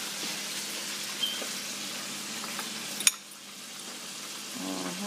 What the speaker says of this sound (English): I'm still frying chicken, y'all. Okay? Just like that, okay? Now we're going to put some onions on.